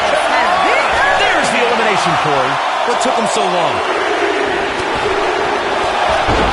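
A dense arena crowd roars steadily in WWE 2K19 during a Royal Rumble match, a constant loud wash behind commentators talking over it.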